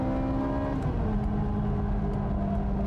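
A Ferrari 360 Modena racing on the final lap at Fuji Speedway: a sustained engine drone with shifting tonal harmonics holds at a moderate, even level, heard from onboard or close by.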